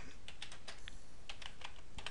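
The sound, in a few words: computer keyboard typing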